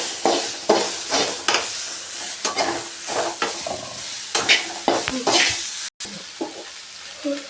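Drumstick leaves frying in a pan over the flame, with repeated close scraping stirs against the pan over a steady sizzle and occasional sharper clatter, with no talking.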